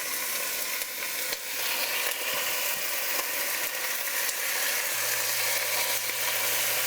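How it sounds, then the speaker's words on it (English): Chicken pieces laid fat side down brown in a hot pan for dumpling soup, giving a loud, continuous crackling sizzle up close with occasional spitting pops. "Then I'm going to add it to the pan, the fat side down."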